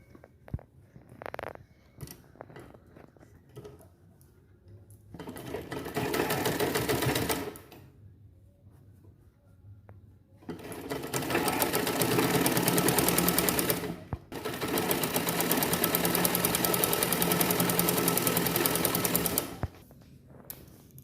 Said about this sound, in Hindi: इस तरह से दूसरे साइड भी सीना।